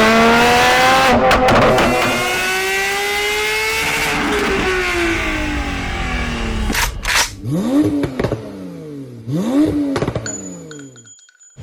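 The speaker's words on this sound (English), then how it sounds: "If you're easily offended by loud internally combusted engines" A Porsche GT3 engine revs hard and loud, its pitch climbing and falling through sustained high-rpm sweeps, then snapping through several sharp blips and crackling drops near at hand, with no voices.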